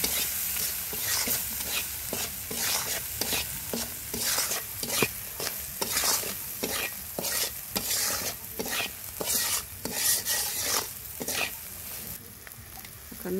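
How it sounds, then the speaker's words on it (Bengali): Spices with turmeric and salt being stir-fried in a pan, heard as a continuous loud sizzle with regular rhythmic scraping strokes of a spatula, close up and without talk. "মশলা কষে নিব।"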